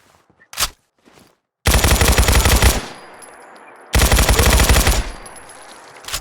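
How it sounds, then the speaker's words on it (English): A machine gun in Fallout 4 with the Combined Arms mod fires two loud sustained bursts of rapid shots, each followed by a fading echo, after a couple of faint clicks. "this is much more like just the little machine gun version"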